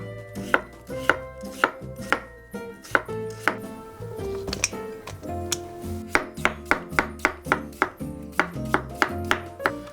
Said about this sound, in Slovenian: Krompir narežemo na res tanke šnite.